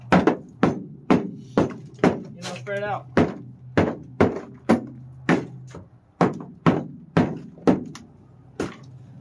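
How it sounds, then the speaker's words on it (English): A hammer strikes and breaks up sound deadening material inside a 1992 Honda Civic EG hatchback, about twenty sharp, evenly paced blows close by, with brief speech partway through. "Break it up. Grab a hammer."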